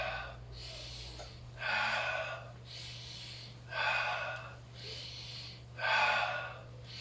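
Deep, slow breaths during a hip-loosening stretch routine: three loud, drawn-out inhales, each about a second long, with quieter exhales between them, heard close up over a steady low hum.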